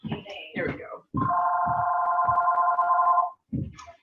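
A house landline phone rings indoors with a steady electronic ringing tone lasting about two seconds, with talk before and after it and a muffled voice under the ring.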